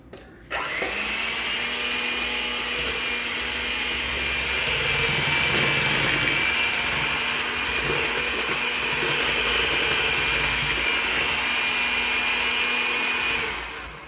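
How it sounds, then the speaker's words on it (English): Electric mixer beating eggs for cake batter, a steady loud whirring hum running continuously for over ten seconds after a brief start, with no talking. "we're going to start mixing the eggs, and we're going to add in the sugar and the vanilla"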